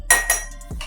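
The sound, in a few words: mixture put into glass container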